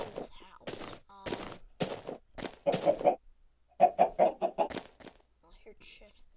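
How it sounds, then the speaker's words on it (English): Minecraft chickens cluck in short, separated bursts, fairly close and clear, with quiet gaps between each run of clucks. "I hear chickens."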